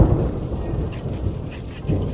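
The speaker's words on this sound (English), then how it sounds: "Boy, that thunderstorm sounds pretty bad." Distant rumbling thunder from a thunderstorm, a low, steady roll with rain-like hiss and a couple of slightly stronger swells, heard alone without talk.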